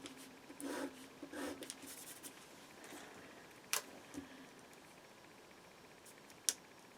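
Pen strokes on paper while filling in a Happy Planner spread, with soft scratchy writing bursts in the first seconds and a few sharper taps and clicks later, quiet and close in an otherwise hushed room.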